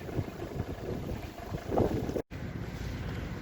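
A boat travels along the Nogat river, a low steady rumble of engine and water mixed with buffeting wind noise, with a brief dropout partway through.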